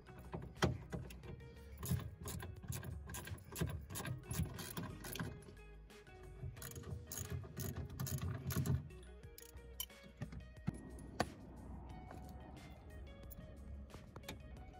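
Ratchet and tool clicks from undoing three bolts on the rear wiper mount of a Nissan R33, heard as close, irregular bursts of metallic clatter with quieter stretches in between.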